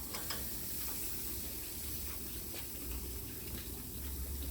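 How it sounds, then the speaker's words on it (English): A steak sears on a hot infrared grill burner, a faint, steady sizzle and hiss with a few soft pops, heard alone. "Now our infrared burner has heated up, it's ready to go. And we're going to move the steak over."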